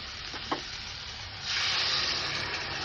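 Hot water poured into a pan of sautéed drumstick vegetables sets off a sudden loud, steady sizzle after a couple of soft clinks, continuing up close to the end.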